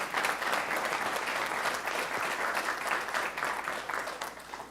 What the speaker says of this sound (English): Now that you can applaud